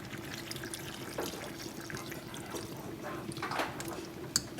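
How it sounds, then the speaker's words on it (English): Water being poured into a pot holding goat meat for a Jamaican dish, a steady close splashing and trickling with a few louder splashes near the end. "I'm going to add some water to it."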